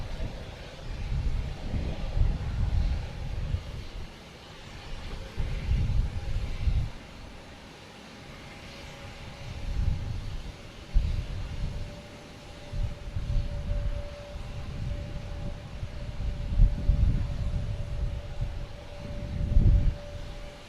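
A Delta Airlines Airbus A330-900 at Boston Logan Airport gives off a steady low roar of jet engine noise, carried outdoors with gusts of wind buffeting the microphone and the rumble swelling and easing throughout.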